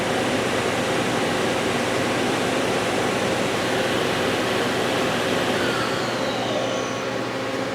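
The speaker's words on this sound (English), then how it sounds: "Spindle's nice and quiet." A lathe spindle with a 10-inch 3-jaw chuck spinning at 2,000 RPM gives a smooth, even whir with a constant broadband hum, loud and unbroken from start to finish.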